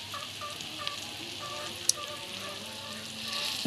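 An egg fries in a pan with a soft, steady sizzle and faint crackle close by, occasional small pops, no talking.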